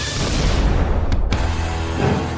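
A loud cartoon explosion effect plays during a food challenge after a Grimace Shake is tasted: a dense, roaring broadband blast with two sharp cracking bursts in the middle, fading slightly toward the end.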